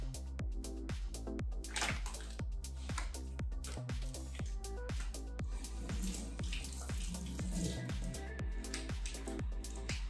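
Water runs from a kitchen tap to be heated for an acai bowl breakfast, a steady close hiss of flow with repeated sharp clicks and clatters over it, no voices.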